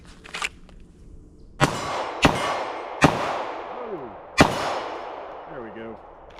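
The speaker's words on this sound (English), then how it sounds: "Let's shoot some steel." Four sharp gunshots ring out at steady intervals on an outdoor range, each followed by a bright metallic clang from struck steel targets, with brief chatter heard between shots.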